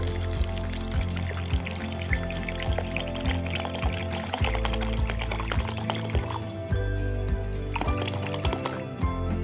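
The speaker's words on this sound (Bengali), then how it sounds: "তার সাথে আমি 3 গ্লাস পানি দিয়ে দিব।" Water pours from a glass into a kilogram of yogurt while borhani is being made, giving a close, continuous gurgling and splashing stream with small drips and sloshes throughout.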